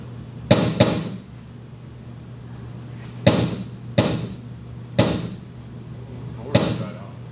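Gunshots on a virtual shooting range: five sharp, loud cracks at irregular intervals over a steady low hum, one pair coming close together at the start.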